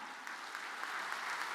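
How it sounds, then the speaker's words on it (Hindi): Audience applause at a political speaking event in Varanasi: steady, dense clapping from a crowd, fairly distant and even, lasting the whole short stretch with no talk over it. "जोरदार तालियों के साथ।"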